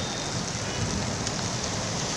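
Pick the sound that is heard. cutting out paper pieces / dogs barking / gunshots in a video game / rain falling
rain falling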